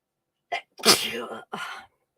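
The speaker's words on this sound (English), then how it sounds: "sorry, guys, I'm going to sneeze" A single loud, close sneeze with a sharp intake and burst, followed by a shorter trailing sneeze-like exhale; no talking.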